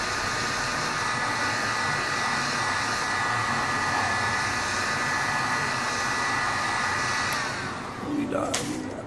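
Heat gun warming the adhesive under an HTC 8X phone screen during a screen replacement, a loud steady close blowing roar held continuously, easing slightly near the end with a brief clatter.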